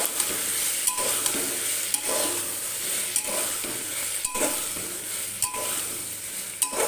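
A spiced vegetarian pan dish of pumpkin, potato, taro and Malabar spinach stems being stirred, with a steady soft sizzle and regular scraping strokes about once a second, close and alone.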